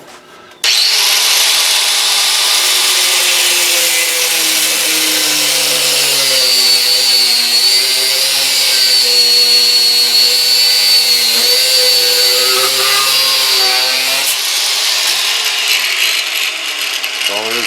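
A power tool cuts through an SKS rifle barrel, a loud, steady grinding-whine from start to near the end, pitch wavering slightly as the blade bites, then stopping abruptly.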